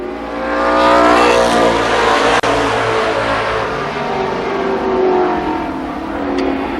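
Stock cars racing at Columbus Motor Speedway in 1993, loud roaring engines howling past together in a sustained, rising and falling pack with a brief sharp drop in the middle.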